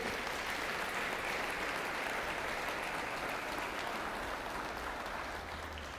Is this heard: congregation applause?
yes